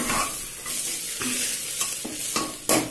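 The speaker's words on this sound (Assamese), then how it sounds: "এয়া আমাৰ পচলা 5 মিনিটমান ভাজিলো, মই ভাজা হৈ গৈছে প্ৰায়।" Chopped banana stem sizzles in a hot pan while a utensil stirs it, producing repeated scraping strokes over a steady, close frying crackle.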